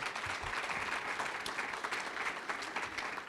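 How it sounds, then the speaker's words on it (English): A room of people applauds at a Hall of Fame speech, a continuous crackle of clapping at moderate volume, somewhat distant, with a low murmur beneath. "Little clap, that's good."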